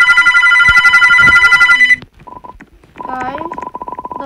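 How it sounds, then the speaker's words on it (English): Telephone keypad dialing tones for an emergency call, first one long loud tone, then short beeps pressed in quick rhythmic runs, with a voice briefly underneath. "I'm putting the number to the telephone. I'm calling emergency."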